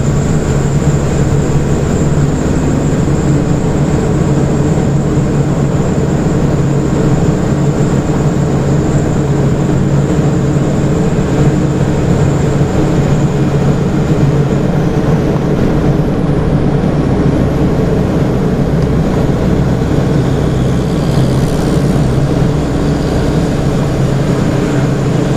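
Ford Cargo truck engine droning steadily from inside the cab on the BR-101/376/116 highway between Garuva and Piraquara, a continuous loud low rumble with road noise and no clear gear-change break.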